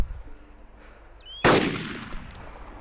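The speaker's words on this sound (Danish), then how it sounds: "Han kunne høre det skud der." A single loud video game gunshot cracks out and echoes away, with a faint chirping sound just before it over a quiet outdoor background.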